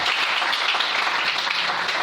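Church congregation applauding the Lord, a steady, dense wash of clapping from many hands that fills the room evenly from start to finish, with no pauses or voices breaking through.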